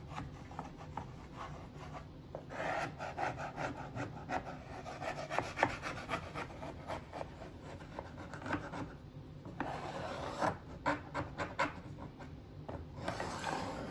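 A mesquite wood and epoxy charcuterie tray being sanded by hand, continuous rhythmic rasping strokes back and forth for the whole stretch with a few short pauses, close and steady, no speech.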